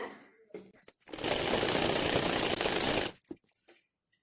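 A sewing machine runs in one steady two-second burst, stitching the back panel of a saree blouse with its lining. Soft handling noises and fabric shuffling come before and after it.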